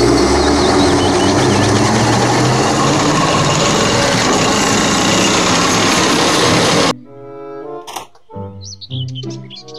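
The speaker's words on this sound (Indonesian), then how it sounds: "Mobil tank baja." Toy steel tank rolling with a loud, steady mechanical rumble and chirpy electronic toy noises for about seven seconds, then cutting off into short, faint toy beeps and tones.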